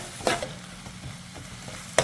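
Onions with tomato paste being sautéed for a mutton curry, with a soft steady sizzle and a couple of sharp stirring scrapes at the start and end of the brief moment, no talking.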